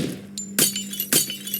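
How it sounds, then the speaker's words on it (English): Window glass smashing in a tactical shooter video game, two sharp, loud breaking crashes about half a second apart, each with a bright shattering burst over a steady low background hum. "One man smashes the window while the other guy covers"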